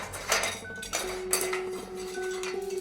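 Metal pots and pans clatter and clang in a kitchen, several sharp crashes with ringing metallic tones lingering between them.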